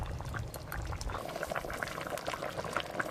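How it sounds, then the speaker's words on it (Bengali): Katla fish curry gravy with potatoes and fried onions boils in a pan, a soft continuous bubbling with frequent small pops and gurgles, close and fairly quiet. "ফুটে গেছে যখন ঝোল"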